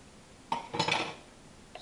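Cold process soap mixture with sweet almond oil stirred in a container, a short close burst of scraping and clinking from the utensil against the vessel, then quiet with one small tap.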